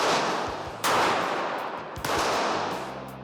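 Two sharp, loud gunshots crack out at shooting practice during a self-defense session, each blast followed by a long reverberating decay, with a low rumble beneath.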